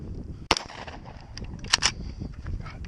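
A Vepr 12 shotgun fires two sharp, loud blasts about a second apart during a multigun match, and the range noise rings on after each shot.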